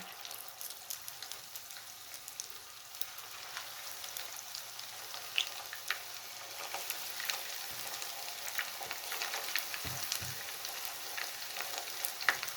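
Chicken pakoras fry in hot oil with a soft, steady bubbling sizzle and scattered crackles, fairly quiet and close, with a couple of dull thumps near the end and no voices.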